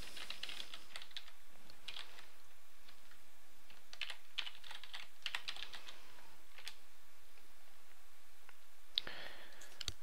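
Someone types login credentials on a computer keyboard, with quick bursts of close, crisp keystrokes separated by short pauses and no talking.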